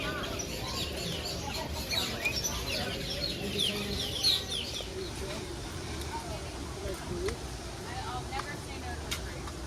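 Zoo aviary birds chirp and call throughout amid steady crowd noise, with people talking nearby.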